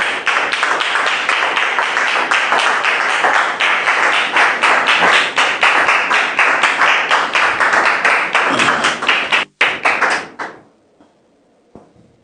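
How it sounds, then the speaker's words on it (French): A studio audience breaks into sharp, loud applause to welcome guests, a tight burst of many claps that carries on for about ten seconds before cutting off abruptly into near silence. "on les reçoit s'il vous plaît sur vos applaudissements"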